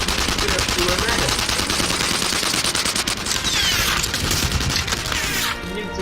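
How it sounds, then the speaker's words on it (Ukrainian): Sustained automatic machine gun fire from the video game Enemy Front, loud and continuous rapid bursts with explosive booms and combat clutter, a voice speaking briefly underneath. "Теперь кулемет."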